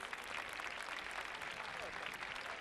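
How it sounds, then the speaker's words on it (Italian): Festival audience in Fonni, Sardinia, applauds in gratitude after a song, a dense continuous wash of clapping heard at a distance, even and unbroken throughout. "E questo è l'applauso anche in questo caso di gratitudine"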